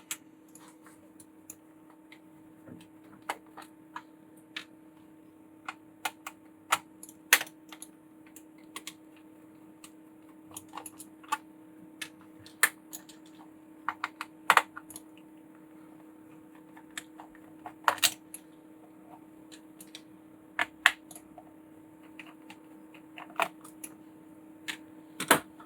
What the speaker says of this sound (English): let's remove the screws